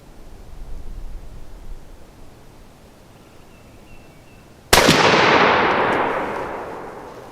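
A Mossberg 935 turkey shotgun fires a Winchester 3-inch number 4 shell outdoors: one sharp, loud blast after a stretch of quiet background, followed by a long ringing decay.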